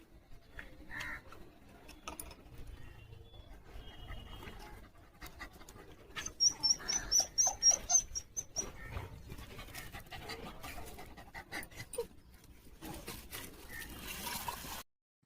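A dog whimpers and pants, with quick rhythmic bursts of breathing in the middle and thin, high whines scattered around them, fairly close and otherwise quiet, with no talking.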